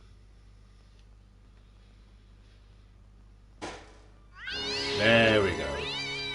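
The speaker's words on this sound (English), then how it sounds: "I knew there was a cat somewhere" A cat lets out a loud, drawn-out meow with a rising and falling wail near the end, heard after a brief sharp knock; a voice speaks briefly beforehand.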